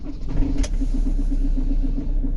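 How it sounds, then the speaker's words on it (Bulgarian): Van engine idling steadily on a cold morning at about 1 degree, a low continuous rumble with a steady pulsing hum, close and alone with a brief sharp click early on. "палим буса и газ"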